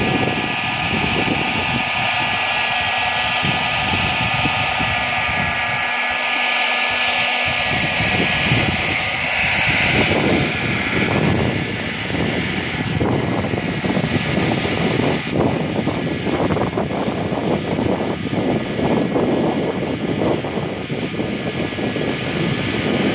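A plastic water tank is repaired by plastic welding, with a loud, steady mechanical whirring drone running throughout; a rougher, crackling texture joins the hum in the later part.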